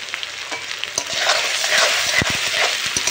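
Onion, ginger-garlic paste and tomato are stir-fried together in a pan, with a continuous sizzle and bursts of spatula scraping and tapping against the pan, growing busier and louder toward the end.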